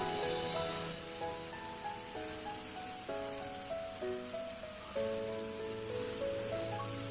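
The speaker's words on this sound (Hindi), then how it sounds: "आम एबे अंडा गुडी को पकई नबा।" Eggs fry in a pan for egg biryani, giving a continuous crackling sizzle like light rain, with background music playing throughout.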